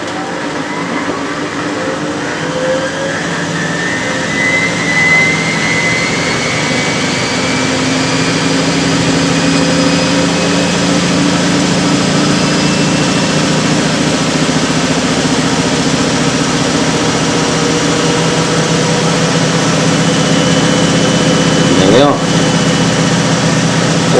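A Miele W562 washing machine spins up toward 900 rpm, giving a steady mechanical hum and a whine that slowly rises in pitch. A brief clunk comes near the end.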